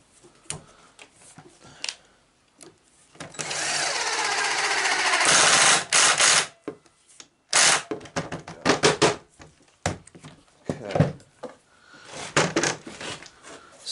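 Last screw driven into a wooden bearded dragon enclosure joint with a power driver, a long loud buzzing run, then several shorter bursts and ratcheting spurts, close by, with no voices.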